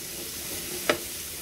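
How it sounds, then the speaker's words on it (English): Meat sautés in a pan with a soft, continuous low sizzle and one brief scrape or stir partway through, close and quiet, with no talking. "You want to saute your meat a little bit."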